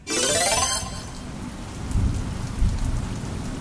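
Steady heavy rain falls on a surface with a dense hiss, and a rumble of thunder rolls beneath it, opening with a brief bright swell before settling into constant downpour.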